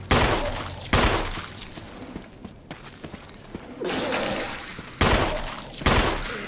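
Gunshots from the survival horror game Resident Evil Remastered, loud sharp blasts fired in a few separate bursts with short gaps between them, set against quieter ambient game noise.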